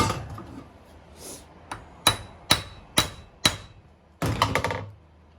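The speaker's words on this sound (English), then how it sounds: "Use that hammer." Sharp hammer blows ring out while replacing dirt bike linkage bearings, a few spaced strikes, then a steady run of evenly timed hits and a quick clattering flurry.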